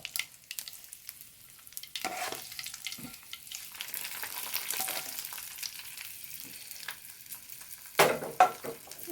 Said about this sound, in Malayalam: ഇതാ ഒഴിച്ചു കൊടുക്കുകയാണ് വറവ് ഒഴിച്ചു കൊടുക്കുന്നുണ്ട്